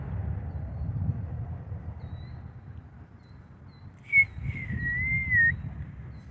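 A dove gives a soft, drawn-out call with a brief rise, heard faintly over steady low background rumble and no talking.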